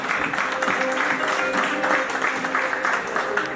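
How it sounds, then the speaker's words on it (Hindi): Crowd at the JCL Premier 2024 opening ceremony claps in a steady, moderately loud wash for a few seconds, with a faint tonal hum running beneath it. "भरपूर तालियां उनके लिए भी एक बार।"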